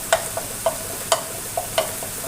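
Bean leaf curry with cumin paste being stirred in oil, a spatula tapping and scraping the pan in about six evenly spaced strokes over a steady sizzle, no voices.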